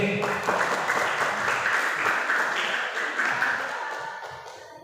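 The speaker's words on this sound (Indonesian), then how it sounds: "Oke, tepuk tangan untuk regu B." A team quiz-contest audience applauds team B with sustained, dense clapping that gradually fades toward the end.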